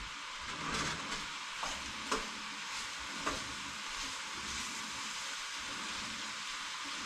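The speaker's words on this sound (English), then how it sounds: "So we stir this up." Spaghetti sauce is stirred in a pot, giving a steady low simmering sizzle with a few faint spoon scrapes and taps against the pot, close and quiet, without talk.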